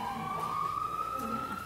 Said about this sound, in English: the siren's going now anyway